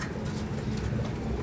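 Jetmatic racing pigeon cooing in low, throaty murmurs, steady and fairly close, with no voices.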